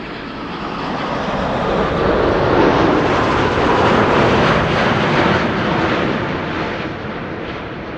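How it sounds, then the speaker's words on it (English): A KLM Boeing 787-10 Dreamliner arrives at Amsterdam Schiphol on a sunny day, its loud jet roar swelling as it passes close overhead, then easing slightly toward the end. "This is KLM flight 741 arriving from Cartagena in Colombia. It's a 787-10 Dreamliner"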